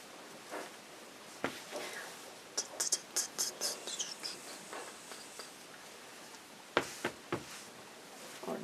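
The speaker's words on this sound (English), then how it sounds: "I will cut both fabrics at the same time" Rotary or fabric cutting on a cutting mat, two fabrics cut at once, with quiet scattered clicks and light scraping strokes close by, bursts of rapid ticking in the middle and near the end.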